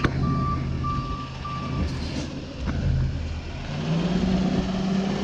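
A tow truck's reversing alarm beeps in a steady repeating pattern over a low idling engine rumble, then the engine revs as the vehicle moves.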